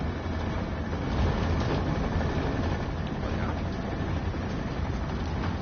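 Commuter train running near South San Francisco in Train Sim World 2020, a constant low rumbling roar of rolling wheels and motor, steady and close throughout with no talking.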